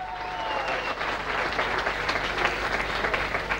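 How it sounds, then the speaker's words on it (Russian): Continuous applause from an audience at a contest, thick and even clapping for contestant number one, moderately loud throughout with no voices over it. "Аплодисменты для участницы номер один."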